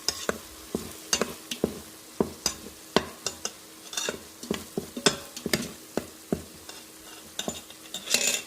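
Onions sautéing in a pan for a roasted-coconut chicken curry, a low steady sizzle punctuated by a regular run of sharp spatula taps and scrapes from constant stirring, close and clear.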